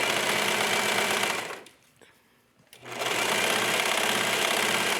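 Sewing machine stitching mesh and lace fabric for a color-blocked yoga top, running loud and steady with a fast continuous whir, pausing briefly near the middle before resuming at full speed.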